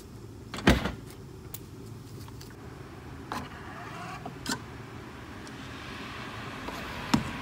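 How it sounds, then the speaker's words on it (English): Tesla Model 3 door locks actuating, sharp mechanical clicks and thunks spaced over several seconds against a quiet background hum, close by, with no talking. "Lock the doors."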